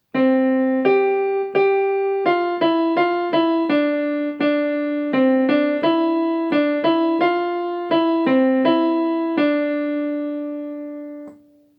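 A bright electronic keyboard plays a simple melody of distinct sustained notes over a steady low accompaniment, ending with a held note that fades out.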